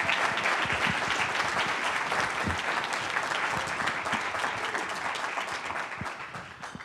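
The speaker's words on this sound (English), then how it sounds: "Can we please give a round of applause to Mr. Bailey?" Sustained applause from a room of attendees at a chamber of commerce lunch after a speaker, dense continuous clapping at fairly close range that slowly tapers near the end.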